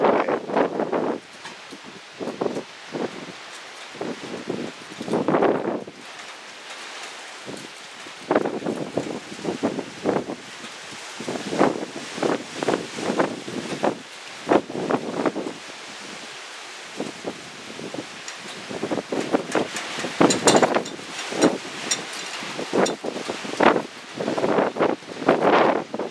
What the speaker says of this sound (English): it's quite windy out here. We got some serious gusts here